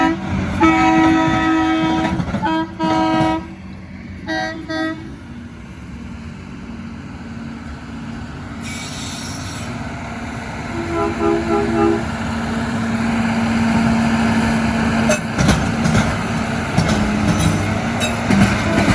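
A Norfolk Southern freight train rolls across a railroad diamond crossing near Fostoria, with a loud steady rumble, sounding horn tones and clicking wheels over the joints, heard up close throughout with some talk at times.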